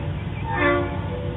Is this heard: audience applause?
no